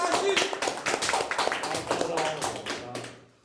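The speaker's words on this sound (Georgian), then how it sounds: "ტაში მეგობრებო, ერთი ტაში." An audience at a Georgian YouTubers' Mafia game show breaks into a burst of clapping, dense and close at first, then thinning into scattered claps before fading out.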